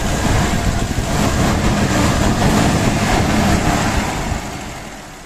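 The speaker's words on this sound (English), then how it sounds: "I rev it a bit." Engine of a Mercedes-Benz W124 after conversion from K-Jetronic to Voltarent EFI, revved while parked, giving a loud, steady, broadband roar that holds for about four seconds before easing off near the end.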